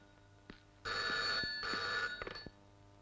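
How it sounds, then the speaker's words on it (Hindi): A telephone ringing in a Hindi-dubbed South Indian horror film, two loud bursts of a bright electronic bell tone, each close to half a second long, separated by a short gap, with no talk over it. "Madam phone."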